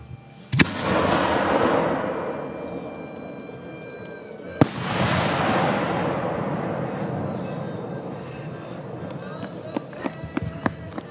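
Two sharp, loud bursts from Vulcan 6-inch sweeper firework shells, each trailing into a long crackling, hissing fallout, followed by scattered distant pops, with talking in the background.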